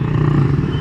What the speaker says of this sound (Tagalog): yung tunog ng tambucho